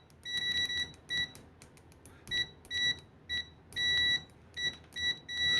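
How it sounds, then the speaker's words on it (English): A LOMVUM T28C multimeter in continuity mode with its default test probes gives a run of sharp, high electronic beeps, some short and some held, in an irregular stutter as the probes make and break contact. "Aphrodite, we are in continuity mode"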